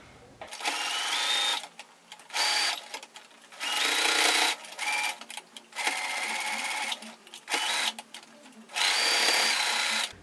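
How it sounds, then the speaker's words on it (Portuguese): A sewing machine stitches a seam on a cloth pad in close, loud bursts of rapid mechanical chatter, about seven runs separated by short pauses. "quando a gente bate essa costura, ele fica bem retinho"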